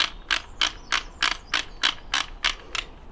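The fore-end cap of a Browning Maxus II shotgun with a 30-inch barrel is wound on by hand, giving about ten evenly spaced, crisp ratcheting clicks close up with no voices.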